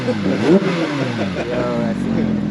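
Porsche engine revving with its exhaust valve open, a short throaty rise and fall up close, mixed with voices talking nearby.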